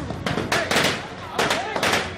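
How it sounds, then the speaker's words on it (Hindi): Firecrackers burst at a street celebration by fans in Tiruchirappalli, a rapid cluster of sharp cracks and pops in uneven bursts, loud and nearby against a background of crowd noise. "इसी तरह तिरुचिरापल्ली में भी जमकर पटाखे फोड़े गए।"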